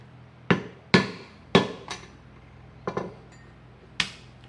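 Hammer striking a leather punch to make a hole in a leather belt, about six sharp metallic knocks in an uneven rhythm, loud and close with no talk.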